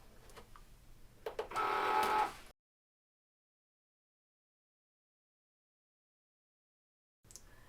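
A Cricut cutting machine cuts glitter heat transfer vinyl on its mat, giving a short burst of whirring and buzzing motor noise. The sound stops abruptly into silence before a faint return at the end.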